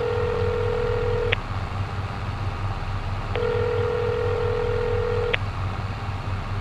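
Phone call being placed in Farming Simulator, heard as two long, steady ringback tones separated by a pause, over a constant low engine hum from the game.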